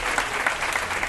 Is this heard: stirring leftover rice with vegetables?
no